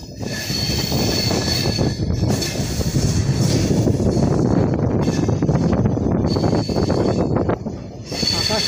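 A passenger train on the Dibrugarh to New Cooch Behar run pulls out of a station with a loud, continuous rumble and rhythmic wheel clatter, heard up close with some wind buffeting.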